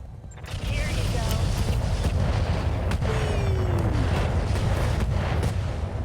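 Heavy, continuous battle noise from explosions and weapon fire in a mech combat video game, with a Catapult mech in play against a Locust. Dense, loud rumbling and repeated sharp blasts fill the whole stretch, with faint voices underneath.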